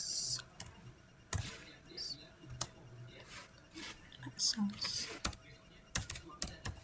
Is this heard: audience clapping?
no